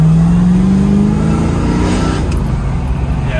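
A 1974 Pontiac Firebird Formula Ram Air engine drops through a smooth downshift in congested traffic, a loud close rumble with a falling whine early, then a steady low drone.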